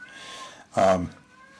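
A single short meow sounds once during a town board of selectmen meeting, clear and moderately loud against a quiet room hum, then fades.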